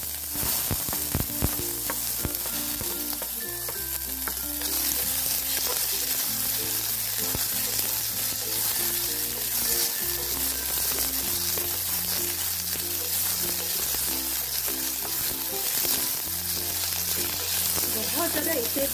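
Onions frying in a pan for masala oats, a continuous sizzle under steady looping background music, with occasional stirring clatter.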